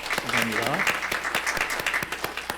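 A church congregation applauds to welcome a new member, giving a short round of scattered, moderately distant claps as someone briefly says thanks over it.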